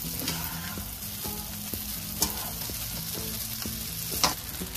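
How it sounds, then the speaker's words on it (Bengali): Cooked rice is stirred together with fried egg in a hot pan, giving a steady sizzle throughout with repeated soft scraping strokes and a couple of sharper clinks from the utensil, close and alone with no talking. "ভালো করে ডিমের সাথে ভাতগুলাকে মিক্স করে দিব।"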